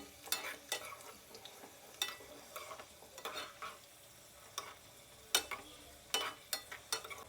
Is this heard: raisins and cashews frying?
yes